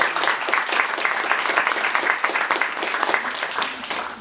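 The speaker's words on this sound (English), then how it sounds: "So I wonder if, Professor Simai, would you stand up and we give you an applause?" An audience at a UN-themed talk applauds a professor as he stands, with dense, even clapping from many hands that stays fairly loud for several seconds.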